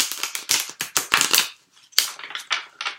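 Tarot cards riffle and slap together in quick bursts, a short pause, then more brisk shuffling close by.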